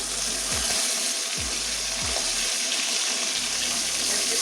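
Bhola fish frying in hot oil in a pan gives a loud, steady broadband sizzle, broken by a few soft low thumps as the fish is moved.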